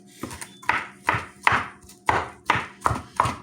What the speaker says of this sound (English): the key is you're chopping it finely